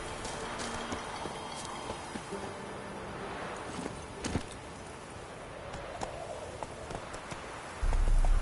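Roach the horse's hooves clop steadily at a walking pace in The Witcher 3, fairly faint under ambient game sound, with a louder rumble at the very end.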